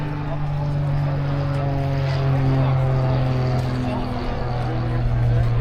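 Propeller aerobatic display aircraft at the Eastbourne Airshow, its engine a steady loud drone with shifting pitch through loops and turns, heard continuously at a distance under a commentator's voice.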